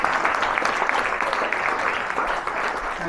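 A networking event audience gives Christine a sustained round of applause, the dense clapping holding steady and fairly loud throughout.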